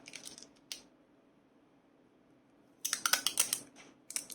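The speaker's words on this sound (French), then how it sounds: "Je vais mettre un petit morceau de scotch là." Adhesive tape is handled while a canvas is being prepared, giving short crisp crackles and rips: a brief burst at the start, a single snap, then a longer run of sticky tearing and a final crackle.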